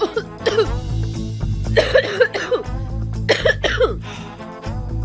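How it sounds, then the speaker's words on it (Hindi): Someone nearby coughs and clears their throat in several short, rough bursts over a few seconds. "वो जरा खांसी हो गई मुझे, गले में कुछ अटक गया।"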